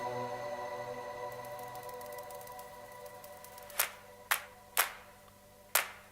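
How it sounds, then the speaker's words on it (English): Crisp, punchy clap hits in a Coke Studio song: four sharp, separate claps in the latter half, played over sustained string and tonal backing. "Triggering some clap sounds."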